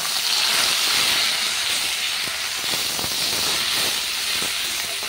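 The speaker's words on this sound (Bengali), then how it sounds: "পাতাটাকে একদম সুন্দর করে ভেজে নেব" Pumpkin leaves frying in hot oil, a steady loud sizzling hiss that continues without a break throughout.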